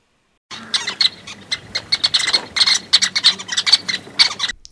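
Sociable weavers, communal desert birds, give a busy chattering call of squeaky, toy-like chirps, repeated rapidly and fairly loud for several seconds with no other sounds.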